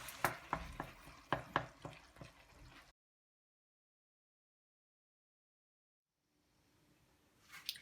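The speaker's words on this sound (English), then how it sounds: "with a wooden spoon, I'm trying to mash up all my turnip and my onions" A wooden spoon mashes boiled turnip and onions in a pot for turnip curry: about three seconds of quick, rhythmic, close thuds and scrapes, then silence, with a brief rustle at the end.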